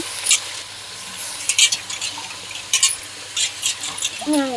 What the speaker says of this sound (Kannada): ಆಲೂಗಡ್ಡೆ ಬದನೆಕಾಯಿ ಹಾಕಿದ್ಮೇಲೆ ಒಂದು ಎರಡು ನಿಮಿಷ ಬೇಯಿಸಿ ಪ್ಲೇಟ್ ಮುಚ್ಚಿಬಿಡ್ತೀನಿ